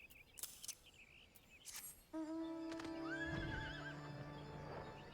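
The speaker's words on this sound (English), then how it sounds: "The green horse." The green horse mount Xanthos in Final Fantasy XIV lets out a clear whinny with a wavering, falling pitch, preceded by quick hoof clip-clops and faint game ambience.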